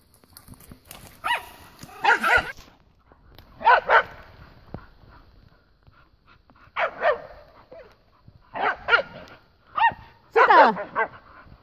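Bull terriers barking in a forest, several loud, close barks coming in separate bursts with short quiet gaps between them.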